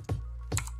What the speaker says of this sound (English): after I type this in